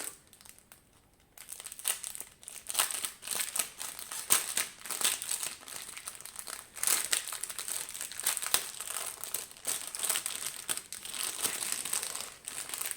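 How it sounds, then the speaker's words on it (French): Plastic sachets from a cross-stitch and diamond painting kit crinkle and rustle as they are opened and spread out, with soft, irregular crackles close by and no talking. "je vais juste ouvrir pour étaler un petit peu mieux les sachets"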